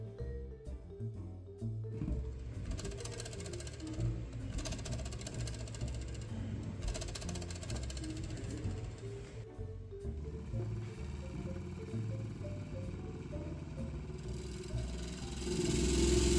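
Linear motor driving a wide-bore piston with a short stroke in a homemade pulse tube cryocooler, giving a steady loud mechanical hum and buzz that runs without a break and swells slightly at the end.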